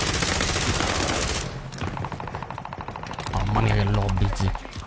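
Rapid video-game gunfire bursts, loud and dense for the first second and a half, then thinner shots continuing under excited voices and game sounds through the rest.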